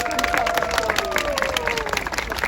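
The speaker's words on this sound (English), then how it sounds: "give one final massive round of applause for the guy who brought the safety back for one last time" Passengers on a Copenhagen canal tour boat clap and cheer for their captain, a dense burst of applause with voices and tonal whistling mixed in, steady and fairly loud throughout.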